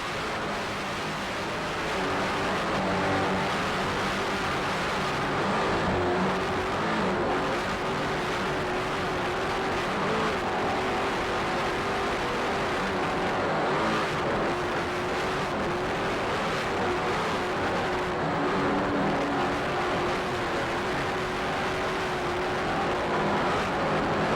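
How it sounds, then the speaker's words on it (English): An offshore racing powerboat with two 800-horsepower Reed racing inboard engines roars steadily at speed during an ocean race, its sustained engine drone mixed with wind and water rush, loud and close on board throughout. "Inboards doing their job. Two 800-horsepower Reed racing engines."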